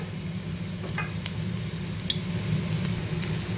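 A tablespoon of garlic paste sizzles in hot oil in a pan for samosa filling, a steady low frying hiss with a few light utensil taps and scrapes.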